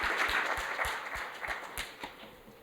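An audience applauds after a security conference talk, steady close clapping from a crowd that holds throughout and eases slightly toward the end, with no talking.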